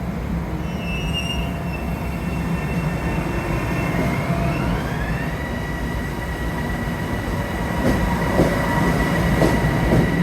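A New York commuter train rumbles along steadily with a constant roar, wheels squealing in rising tones and occasional rhythmic clicks over the rails.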